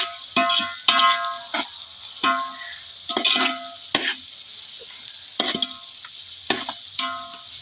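Onion and capsicum are tossed in a hot pan for soybean fried rice, with a spatula scraping and stirring in about a dozen separate, ringing strokes close up, with brief quiet gaps between them and no talking.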